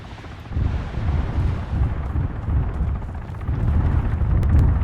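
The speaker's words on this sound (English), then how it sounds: "The missiles just reached its target." A missile strike explodes on impact in the military game Arma 3, producing a deep, rolling rumble that swells and lingers across the whole clip. The rumble is sustained and fairly loud, with no distinct separate blasts.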